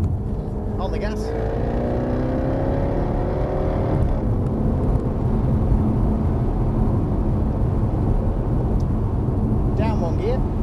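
Jaguar F-Type accelerating on a track, its engine a steady loud drone with rising tones in the first seconds as revs climb, continuing under a voice speaking inside the car.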